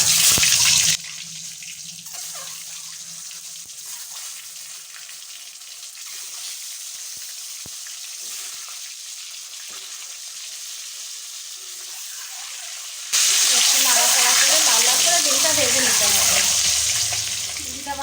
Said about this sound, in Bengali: এবার ডিমগুলো দিয়ে ভেজে নেবো